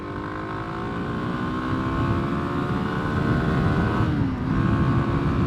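Kawasaki KLX300 dual sport motorcycle engine rolling on and revving up while riding, a steady rising drone with a brief dip near the end, loud and continuous, no voices.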